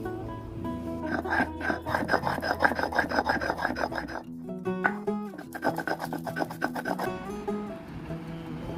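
Neem leaves and raw turmeric are ground into a paste by hand, a steady rasping, scraping rhythm of repeated strokes that pauses briefly midway and then resumes, close and fairly loud with no talking.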